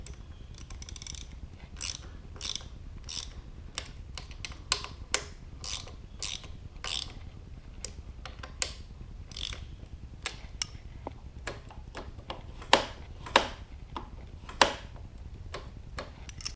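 Ratchet wrench clicking in repeated bursts while the brake lever on a KTM RC390 motorcycle is tightened down, crisp close ticks with short pauses between strokes, no talking.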